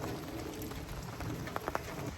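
Rain pouring onto the ground during a thunderstorm, a steady hiss of dense drops with a few sharper splats standing out near the end, fairly soft and with no voices.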